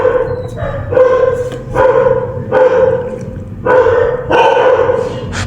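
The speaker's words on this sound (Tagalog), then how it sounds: "may aso." A dog barks in a steady series of about seven loud, close barks spaced under a second apart, with no other sound between them.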